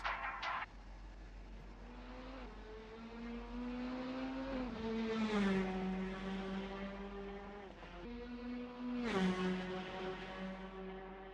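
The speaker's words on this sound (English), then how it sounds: "We're about to take a look at the LMP3 coming out first." An LMP3 prototype race car heading out during qualifying at Spa-Francorchamps, its engine note climbing and settling through several revving pulls at moderate distance.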